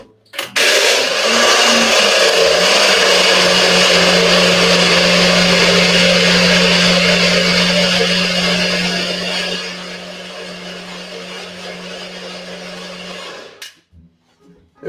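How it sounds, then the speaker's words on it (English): A small countertop blender whirs steadily as it blends a cocktail during a cocktail class, a loud, close, continuous motor drone that runs for about twelve seconds, softens near the end and then cuts off. "We're going to give this a blend. I have a little blender back here."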